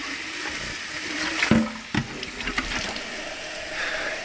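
Water splashes from a tap into a container in a chicken brooder setup area, a soft continuous rush punctuated by a few clunks and knocks as the vessel is handled, fairly close.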